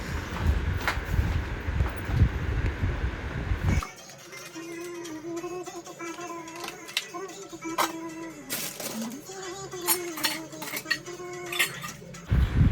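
Kitchen utensils, pots and dishes are set out and arranged, giving scattered metallic clinks and clatters of cutlery and pans at close range over a low background hum, with a louder rustling burst at the start.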